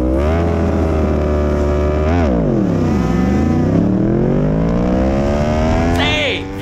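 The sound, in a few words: motorcycle race start, launching off the line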